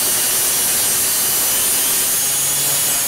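A handsaw cutting a wooden floor timber for a Herreshoff 12 1/2 wooden boat build, one continuous, loud, close hissing rasp with no pauses and no voices.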